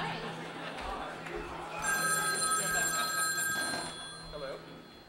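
A telephone rings in a busy conference hall, its bright electronic trill starting partway through and continuing steadily over crowd chatter and a talking voice.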